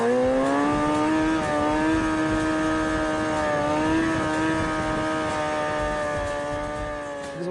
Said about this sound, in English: He's literally giving it gas and popping the clutch out all in one.